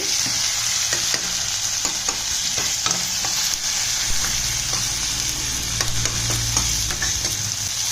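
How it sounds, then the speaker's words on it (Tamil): Chunks of yam sautéing in a pan for a tamarind gravy, giving a steady loud sizzle with repeated scraping stirs throughout, no voices. "இப்போ இது நல்லா வதங்கிடுச்சு."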